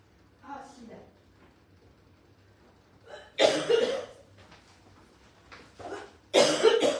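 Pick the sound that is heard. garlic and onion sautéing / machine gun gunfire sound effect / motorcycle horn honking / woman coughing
woman coughing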